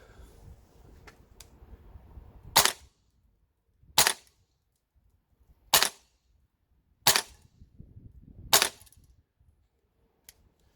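An HK416A5 Gen2 gas blowback airsoft rifle fires 0.2 gram BBs on green gas, five sharp, loud, single cracks spaced about a second and a half apart with near silence between them.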